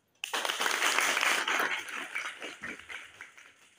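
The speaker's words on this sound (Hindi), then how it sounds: "इसके लिए जोरदार तालियां दोस्तों" A crowd at a university department's Teachers' Day function breaks into loud applause for the department head, starting abruptly, peaking early, then thinning out into scattered claps.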